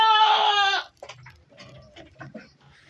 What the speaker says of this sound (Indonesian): tuh kambing-kambingnya yang sedang makan lahap seperti itu kulit kopi